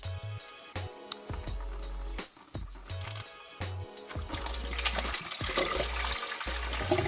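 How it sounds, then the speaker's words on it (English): Coolant pouring out of a car radiator into a drain pan, a splashing, gurgling stream that starts in irregular gushes and grows steadier and louder. "So we're just gonna start off ripping these coolant lines off, draining all the coolant out of it, and pulling the rad out."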